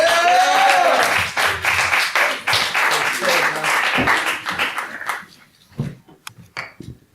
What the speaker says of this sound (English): Give a round of applause for Pepper.